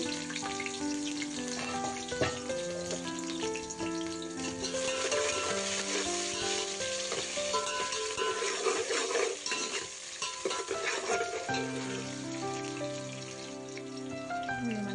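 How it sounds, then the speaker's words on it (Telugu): Chopped onion and mint fry in oil with whole spices for chicken biryani, a continuous crackling sizzle with stirring running beneath prominent background music throughout. "మంచిగా ఫ్రై అవుతున్నాయండి."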